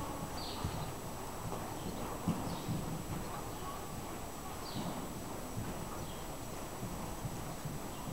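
A horse trots during a dressage test, its hoofbeats soft and muffled on the arena footing under steady outdoor wind and background noise.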